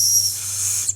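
A soft, thin whistle tone from the safety whistle attached to a Camelbak trail running vest, blown gently for about a second and fading out, heard alone up close.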